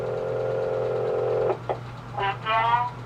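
Telephone dialing tones sound in a cartoon: a steady hum, then a few short beeps and tone bursts.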